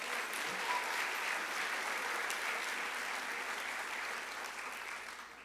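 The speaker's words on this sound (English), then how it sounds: "Round of applause for our ROTC cadets." Crowd applause for ROTC cadets at a high school senior awards ceremony, steady and full-bodied clapping from a large audience lasting several seconds before beginning to taper off.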